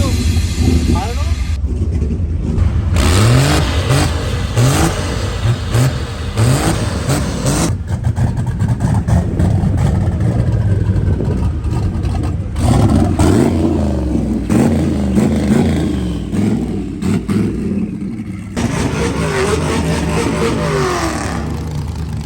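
Truck engines rev hard for burnouts at Texas Motor Speedway, a loud, continuous roar that surges and drops over a noisy outdoor crowd with voices talking nearby.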